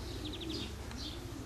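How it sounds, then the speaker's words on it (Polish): Racing pigeons arriving at the loft, with soft coos and brief chirps at a moderate distance over a quiet outdoor background, and no speech. "Jest kolejny gołąb."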